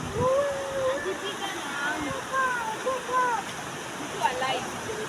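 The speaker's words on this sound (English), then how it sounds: "You can add the sounds of the water flowing." Water flowing at a scenic nature spot at Pacha Resort, a steady rushing wash heard close by, with faint whistling calls and brief voices over it.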